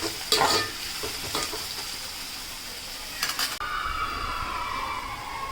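Onion and crushed garlic sizzle in a pan while a utensil stirs and scrapes through them, with a few louder clattering strokes early and near the middle over a constant frying hiss.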